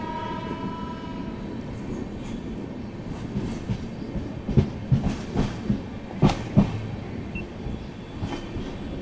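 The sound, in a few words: train departing from Madhira station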